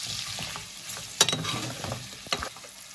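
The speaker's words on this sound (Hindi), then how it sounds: "अभी मैं इसके अंदर डालूंगी लहसुन और मिर्ची का पेस्ट। इसको हम अच्छे से भूनेंगे।" Mutton frying in a pan with garlic and chili paste, soft crackling sizzle as it is stirred, with a few sharp scraping clinks, close by and fairly quiet.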